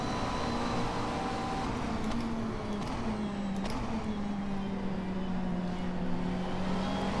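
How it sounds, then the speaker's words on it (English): A McLaren 650S GT3 race car engine in the rFactor 2 racing simulator at Silverstone, droning steadily with a tone that slowly sinks and rises, heard alone with no talk. "This engine does have a good meaty power band."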